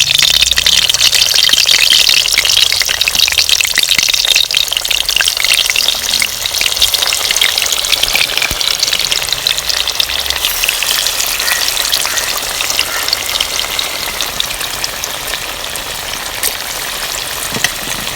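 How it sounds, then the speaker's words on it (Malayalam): Chicken fries in hot oil with curry leaves, a loud, dense, continuous sizzle and crackle that holds evenly throughout the stretch and fades slightly near the end, with no speech. "ഇനി നമുക്ക് ചിക്കൻ ഫ്രൈ ചെയ്തെടുക്കാം."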